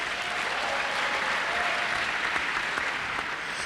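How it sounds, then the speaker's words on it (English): A bootcamp audience at the Tony Elumelu Entrepreneurship Programme applauds themselves, a dense, steady round of clapping from a large crowd filling the room at even loudness throughout. "So now you give yourself a big round of applause."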